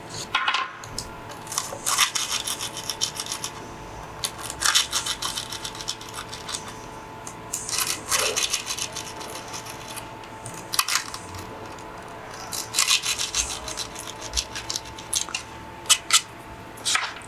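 A skate tool's screwdriver pokes bolt holes through skateboard grip tape, making scattered scraping, rasping and tapping bursts with small clicks, close and moderately loud, with quiet pauses between.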